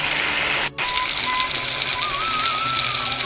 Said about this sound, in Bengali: দেখো বন্ধুরা আমার পটল কষানোটা হচ্ছে কত সুন্দর